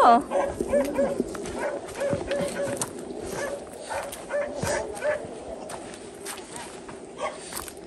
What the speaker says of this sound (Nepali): कुकुर टोक्ने कुकुर हो